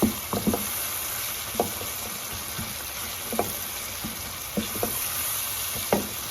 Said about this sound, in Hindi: अब हम इन सब मसालों को अच्छे से भूनेंगे